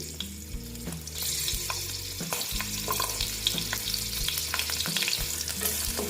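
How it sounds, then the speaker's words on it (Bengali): Green chili, black cumin and garlic fry in hot oil with a bright, crackling sizzle that grows louder after the first second, with clinks and stirring knocks scattered through it. "দিয়ে একটু ভেজে দিচ্ছি"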